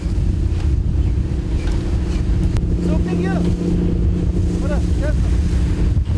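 Wind and waves buffet an anchovy fishing boat at sea off Gijang, with a loud, constant roar of wind against the microphone and sloshing water under a steady engine drone, and faint shouts come through in places.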